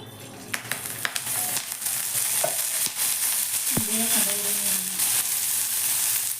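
Green chillies frying in a little oil after dry roasting, for a Maharashtrian chilli thecha. The sizzle is steady and close, with several clicks and clinks of stirring and a brief hiss partway through.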